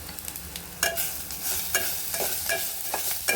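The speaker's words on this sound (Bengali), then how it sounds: "এবার এগুলোকে ভালো করে মিক্স করতে হবে" Spices of turmeric, chilli powder and coriander powder being stirred in a frying pan for a taro leaf dish, with repeated scraping strokes over a steady background sizzle.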